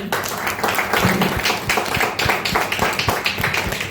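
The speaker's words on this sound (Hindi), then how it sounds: "दोस्तों एक जोरदार सा तालियां होनी चाहिए हमारी शांति मैम के लिए" Audience applause follows a call to clap for a guest at a health program, with dense, steady clapping that fills the whole stretch along with scattered sharper taps.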